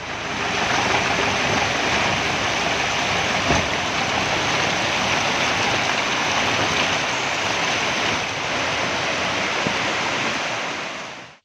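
A river where villagers have to wade across because there is no bridge rushes in a steady, dense roar of flowing water. It stays loud and unbroken throughout, with no voices.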